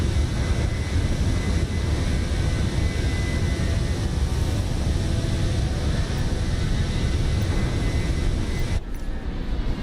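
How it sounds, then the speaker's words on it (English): Jet airliner roar from a Boeing 737-900ER passing in a flyby within a flight simulator, a loud steady broadband rush sustained throughout and ending with a brief dip near the close. "There goes a flyby view of the beautiful Abel Jets Platinum 737-900ER."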